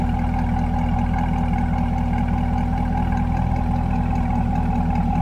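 A 2022 Chevrolet Corvette C8 coupe (2LT) idles steadily, its V8 producing a constant deep, burbling rumble with a fine rhythmic pulse, close and loud, with no talking.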